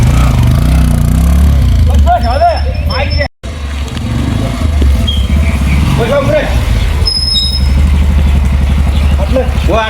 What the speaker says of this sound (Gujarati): આટલો ઘુરે છે બાઈક